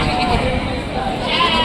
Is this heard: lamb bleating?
yes